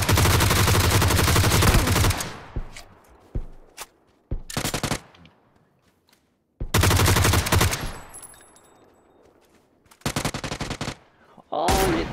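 Bursts of automatic rifle fire in PUBG come in several loud, rapid volleys separated by short silences, each burst a dense string of sharp cracks with echoing tails.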